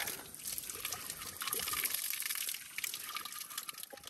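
Icy cold water runs from a pipe in a hill village, a steady trickling splash that stays fairly soft and continuous throughout.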